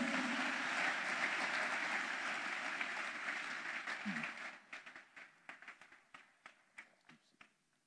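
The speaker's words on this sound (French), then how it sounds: "Acclamez pour Jésus." A church congregation at a conference session applauds loudly and steadily, the dense clapping thinning into scattered individual claps that fade over the last few seconds.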